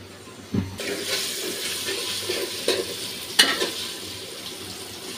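Chopped onion with ginger and garlic paste frying in a pot, a steady close sizzle with light stirring scrapes and a few brief clinks.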